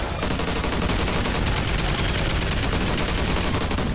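Automated turret in Call of Duty: Ghosts Extinction firing a loud, unbroken stream of rapid shots, close and continuous throughout.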